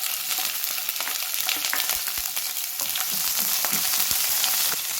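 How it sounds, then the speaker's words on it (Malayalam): Sliced onion and rounds of green chilli sizzle steadily in a hot pan for sambar, a continuous bright frying hiss with faint occasional stirring taps. "ഇത് ഇത്രയും കൂടി ഇതിലിട്ട് വഴറ്റി കൊടുക്കാം"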